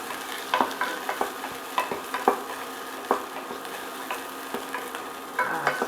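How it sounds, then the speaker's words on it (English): Garlic sautés in a pan with a constant close sizzle, punctuated by frequent sharp clicks and scrapes of a utensil stirring at an irregular rhythm, with no talking. "we're going to add our garlic and saute that to prevent burning."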